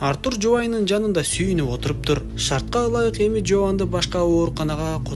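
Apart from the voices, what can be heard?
No distinct noise like a dog, phone or traffic.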